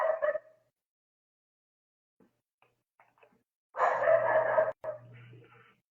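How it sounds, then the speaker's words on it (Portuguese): Dogs bark excitedly in a couple of loud bursts, one at the start and a longer stretch near the end, separated by quiet with a few faint clicks. "Dois meus cachorros tá metendo louco aqui."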